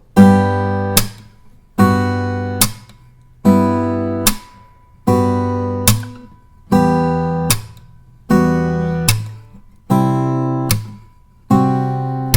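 Acoustic guitar strums alternate with sharp percussive slaps on the guitar body in a fingerstyle exercise, repeating in a steady pattern about eight times with no talking.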